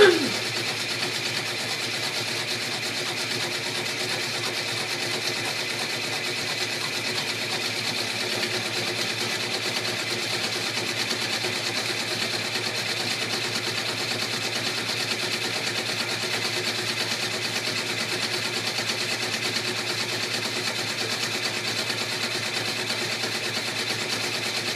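An embroidery machine satin stitches a troll girl's face for a 3D peeker applique, a steady, continuous mechanical whir that holds an even level throughout with no pauses.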